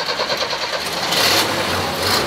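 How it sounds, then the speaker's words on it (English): An industrial sewing machine runs steadily in a classic truck sheet-metal shop, a fast, even mechanical whir with rapid ticking that holds close and fairly loud, growing slightly stronger midway. "A sewing machine."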